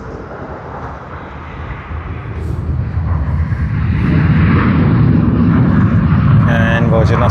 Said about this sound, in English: another Virgin Australia Boeing 737-800 to Melbourne